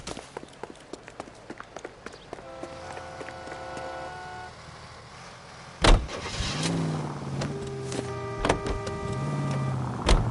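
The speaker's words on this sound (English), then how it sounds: "Come on, you got a ride. Get in and drive." A car drives in the video game L.A. Noire, its engine humming steadily with gear shifts and rising tones, broken by a sharp thump midway and bursts of tire or engine whine, with no talking.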